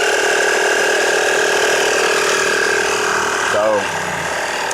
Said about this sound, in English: So that little compressor gets a little bit noisy.